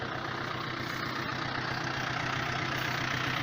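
A tractor engine, fitted with Tecron plough shares and ploughing wet soil, idles close by with a continuous low rumble and hum, unchanging throughout, with no voices.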